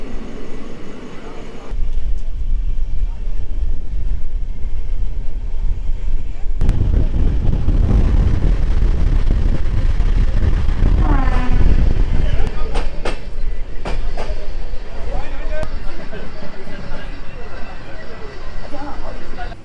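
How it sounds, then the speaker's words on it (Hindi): Coalfield Express train pulling out of Mankar railway station, a loud, steady rumble of rolling wagons with wheel clatter and wind buffeting the microphone, continuous and close throughout, with a voice speaking over it. "अपनी ट्रेन निकल रही है मानकर रेलवे स्टेशन से"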